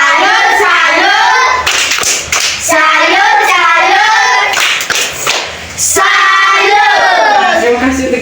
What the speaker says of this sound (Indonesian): Tepuk salut dulu untuk kita semua.